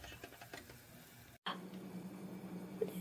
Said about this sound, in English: I'm cooking Polish sausage.